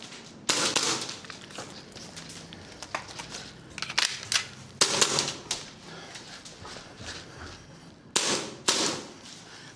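Airsoft gas blowback pistols, Tokyo Marui Nineteen G4, FN509, ZEV and EMG Staccato C2, fire sharp snappy shots in irregular bursts and doubles, close and loud, with brief pauses between strings.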